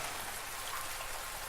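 Rain falls steadily outdoors as a soft, continuous hiss of drops. The sound is faint and even, with no voices.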